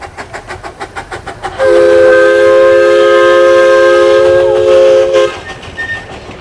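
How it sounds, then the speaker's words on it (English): A steam train rolls past nearby with rhythmic chugging, then lets out a long, loud whistle blast before the chugging returns. "here comes the steam train right here"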